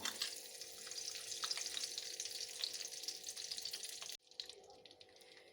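Desi ghee sizzles and hisses steadily in a pan while semolina halwa is being made, a bright continuous frying sound that cuts off abruptly near the end, leaving quieter residual crackle.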